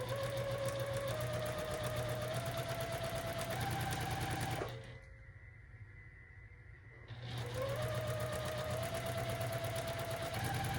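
A sewing machine stitches a seam on a quilted scarecrow leaf block in a steady, rapid hum that stops for about two seconds, then resumes at the same pace.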